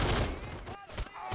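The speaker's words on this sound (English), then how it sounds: "I'm actually sniping some of these guys over here." Sniper rifle shots in the video game Men of War Assault Squad 2, sharp cracks mixed into dense gunfire and battle noise at a steady loud level.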